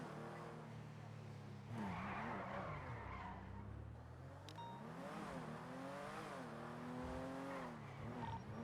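Video game car tires skidding and squealing under badly failing brakes, with engine drone underneath and rising, wavering squeal tones through most of the stretch, fairly loud and close.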